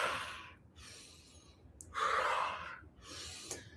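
Slow, audible breaths during a somatic practice session, several soft airy inhales and exhales separated by short pauses, close and alone without talk.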